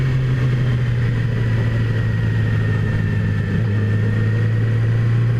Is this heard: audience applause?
no